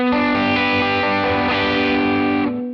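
An electric guitar chord rings through a Fractal FM9 preset with crunchy distortion, one strummed chord followed by a second that sustains loudly before fading, with individual notes still distinct.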